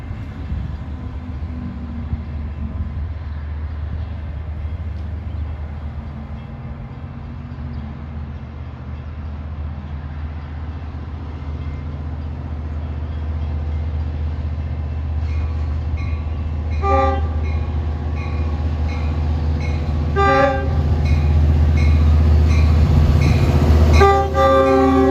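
A Long Island Rail Road Montauk train pulls out of Bay Shore station after dropping off passengers, a steady rumble building in loudness with horn blasts sounding near the end.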